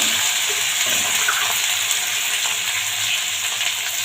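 Seedless tomatoes go into a pan of frying onions, giving a steady, close sizzle and hiss with faint bubbling and a few soft stirring scrapes, no talk.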